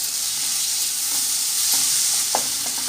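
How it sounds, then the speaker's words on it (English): Blended tomatoes go into a sizzling chicken curry with curry leaves: a dense, continuous frying hiss under a few soft scrapes and taps of a spoon stirring the pan, with no talk. "I am adding the tomatoes here. I have blended it in mixie."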